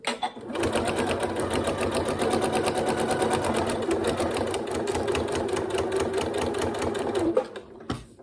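Sewing machine running steadily while stitching a zipped pencil case, a fast continuous mechanical whir and needle patter lasting about seven seconds, close and fairly loud, then stopping.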